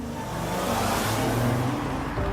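A car engine hums at close range with a rising and falling tone as the vehicle pulls up and comes to a stop, in a scene from an animated story, with no voices.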